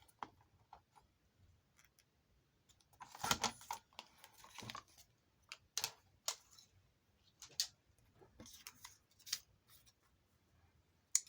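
Scissors snip through paper for a layered craft tag in quiet, irregular short cuts, some louder crisp snips among faint ones, close and alone.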